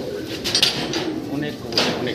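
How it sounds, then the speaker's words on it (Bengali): Many pigeons coo and rustle inside a large pigeon farm shed, a dense, steady murmur of soft calls and wing movement filling the enclosed space. "দেখেন এখানে হিউজ পরিমাণ কবুতর"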